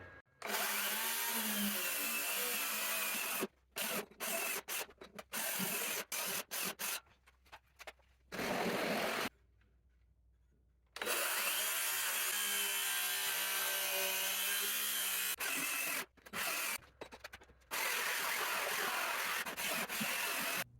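A power saw cutting lengthwise through an old bowling lane board full of nails, a loud whining, rasping cut that starts and stops repeatedly with short pauses and one longer silent gap.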